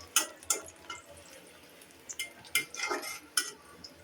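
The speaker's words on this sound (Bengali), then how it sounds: "এই তো তেলের মধ্যে পেঁয়াজ ভাজতেছে" Onions fry in oil in a pan for noodles, with a soft sizzle under repeated scraping clinks of a spoon stirring, coming in irregular bursts close by.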